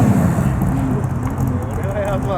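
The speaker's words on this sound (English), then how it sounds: "And GT40 is leaving too. Sounds absolutely epic," A Ford GT40 pulls away at a New Year's car meet in Japan, its engine a deep, steady roar that stays loud throughout, with a voice talking over it.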